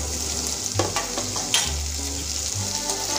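Mixed vegetables such as carrot and tomato frying in a pan, a close, constant hiss with a few soft stirring knocks and scrapes over a low hum, no voices present.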